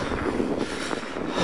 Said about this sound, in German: noch einmal die Drohne steigen lassen